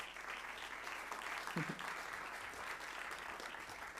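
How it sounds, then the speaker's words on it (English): Festival audience applauding before an opening keynote, a soft, distant wash of clapping heard faintly throughout, with one brief nearby thump partway through. "Big round of applause for Dr. Stacy."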